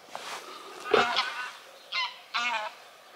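Geese honk in the evening wildlife setting of Zingst, with several separate loud nasal calls in bursts, one rising cry followed by two shorter honks, heard fairly close over a quiet background.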